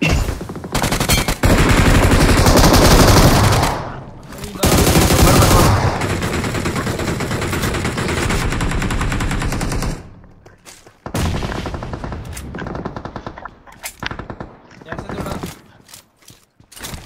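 Rapid bursts of gunfire in the mobile battle royale game BGMI, loud and dense, with mechanical weapon clicks and a player's voice over the shots and short pauses between volleys.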